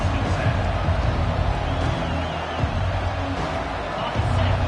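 Dense, steady roar of a football stadium crowd at a college game, filling the whole moment at a constant loud level with a commentator's voice running over it.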